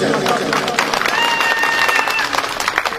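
Audience applause for guests at a Pothwari poetry program, a dense, steady wash of clapping that fills the whole stretch, with voices mixed into it.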